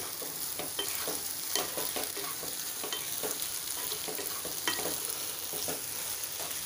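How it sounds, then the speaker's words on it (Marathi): Ginger garlic paste stirred into onions frying in a pan, a steady sizzle with repeated scraping strokes of a spoon at an even rhythm, close and moderately loud. "आधी आलं लसूण पेस्ट घालायची आहे, ती छान कांद्यात मिक्स करायची आपल्याला"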